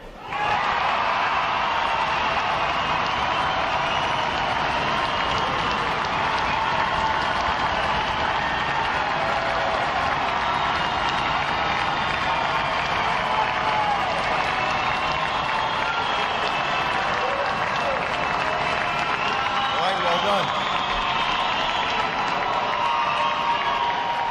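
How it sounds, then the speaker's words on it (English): Audience at a 2019 Navy recruit graduation ceremony, a huge sustained roar of screaming, clapping and stomping, loud and unbroken throughout. "let these sailors know how much you love them by screaming, clapping, stomping"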